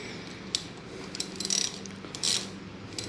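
A ratchet tightens the brake master cylinder bolts on a Kawasaki Z1 motorcycle, giving quick bursts of close metallic clicking between quieter pauses, with no talk.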